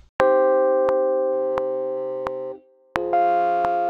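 A reel-to-reel tape emulation plugin adds distortion to a sustained synthetic tone, which holds with regular clicks, drops briefly, then returns brighter and harsher.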